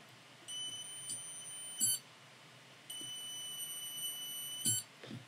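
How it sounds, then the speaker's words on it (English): Two short electronic beep bursts from an ESD monitor circuit on a test bench, each a clean high tone repeated in quick chirps, with soft clicks and handling noise between them and no talking. "Look at that, we're getting a beep."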